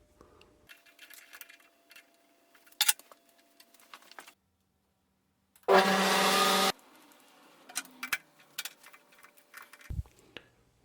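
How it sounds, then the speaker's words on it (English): A bushing driver for a Mopar A727 transmission hydraulic pump rebuild gets a step cut into it, heard as a single loud one-second burst of cutting noise among quiet clinks and handling sounds in a workshop. "I'm going to cut a step in it so that it's got a face that goes just inside the bushing"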